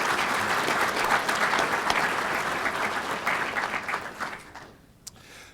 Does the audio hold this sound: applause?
yes